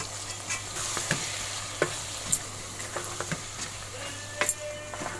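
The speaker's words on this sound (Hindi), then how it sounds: "अब मैं इसको थोड़ी देर भून लूंगी।" Ground red chilli and turmeric sizzle softly in a pan for a restaurant-style mixed dal, with intermittent scraping and tapping of a spoon stirring the spices, close and quiet.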